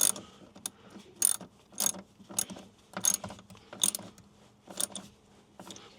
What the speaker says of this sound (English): And then we'll tighten that back up.